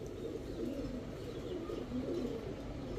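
Pigeons coo softly in a bird farm among Pakistani Teddy, Saharanpuri, Gorra, Chila and racer breeds, a low, steady murmur of overlapping coos with faint chirps.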